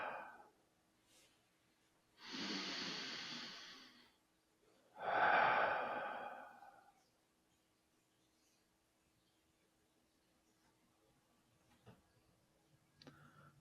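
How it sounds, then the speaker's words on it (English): Two long, deep breaths during a breathwork session, a drawn-in inhale followed by a stronger, airy exhale, close to the microphone in an otherwise quiet room, with a few faint clicks afterward. "I'm going to take a breath here."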